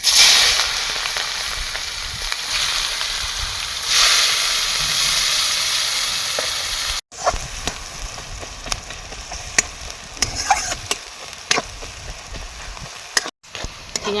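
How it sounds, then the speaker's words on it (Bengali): Chopped onions frying in oil left over from frying fish, tempered with cumin and dried chillies, giving a loud continuous sizzle with scraping stirs and short clinks of a utensil against the pan. "পেঁয়াজ ভেজে নিয়েছি"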